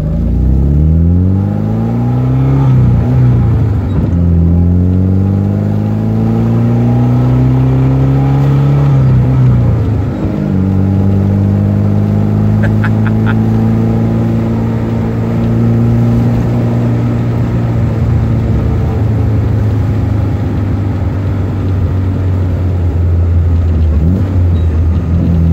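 A 1979 Alfa Romeo Alfetta 2.0 engine pulls steadily on an evening drive, loud and close, with rising and falling harmonic tones as it revs through gears and settles into a sustained cruise, no talk over it.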